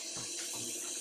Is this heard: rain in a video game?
no